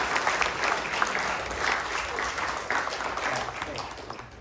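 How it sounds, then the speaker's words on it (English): An audience at a chamber of commerce membership meeting claps steadily, a dense sustained wash of applause from a room full of people that tapers slightly toward the end. "Let's give another round of applause for John."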